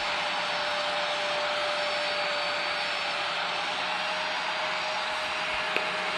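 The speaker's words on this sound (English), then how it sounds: "I'm quickly going to turn off my engines because it's like crazy loud" Jet engines of an Aerosoft CRJ regional jet in a flight simulator game, a loud steady roar with a constant whine, running unbroken throughout with no talking.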